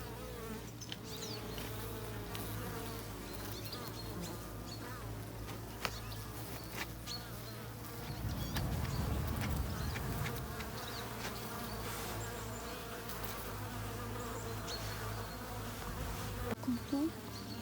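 A steady, close drone of honey bees buzzing at an open hive during varroa mite treatment, continuous throughout and swelling briefly louder midway, with faint handling noises.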